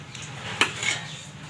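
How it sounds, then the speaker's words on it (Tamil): Idli steamer pot and metal plate handled on a kitchen stove while making black rice puttu, giving one sharp metallic clank amid faint clatter and low background hum. "இந்த மாதிரி இட்லி பாத்திரம் வச்சுட்டு தண்ணி ஊற்றினோம் 2 கிளாஸு."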